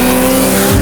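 A loud drag racing car with oversized tires roars steadily up close at a drag racing school, with a brief tire squeal at the very end.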